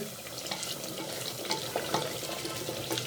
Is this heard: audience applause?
no